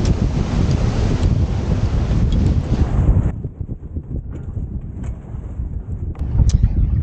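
Strong wind gusts roar across the microphone while sailing beneath tall hills near Diamond Harbour, Port Lyttelton, loud and buffeting, easing briefly midway before surging again.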